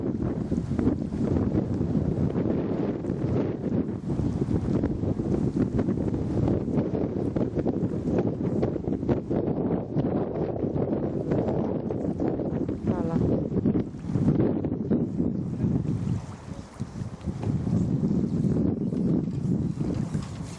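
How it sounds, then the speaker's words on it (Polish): Strong, gusting wind buffets the microphone throughout, a dense roar at a sailing regatta on the water at Elbląg during the Maver Cup, with no voices. "Wszyscy wytrwale siedzą, ale wieje strasznie."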